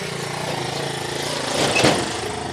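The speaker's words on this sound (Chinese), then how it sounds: "那这里还碰到一个3轮车上来" Three-wheeler engine driving up an uneven village road, a steady chugging motor close by that swells briefly as the vehicle passes, with no talk.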